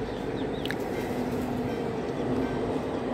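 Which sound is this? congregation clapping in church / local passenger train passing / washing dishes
local passenger train passing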